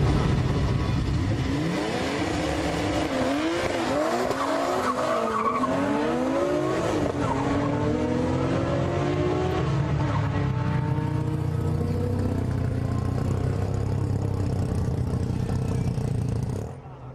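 A classic Nissan 240ZG, naturally aspirated, drag racing with loud tire squeal and rising engine revs at an old-school JDM drag event, the skid and acceleration carrying steadily up close before the roar levels off and cuts out.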